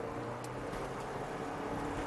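DFSK Glory i-Auto SUV speeding up on an empty road, heard from inside as a steady, muffled engine drone with road and wind roar, no clear rise in pitch over the short stretch.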